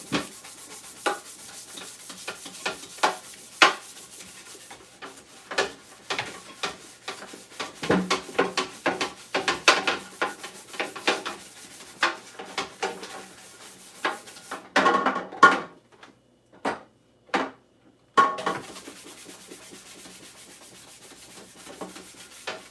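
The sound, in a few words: scrubbing dishes with an abrasive scrubber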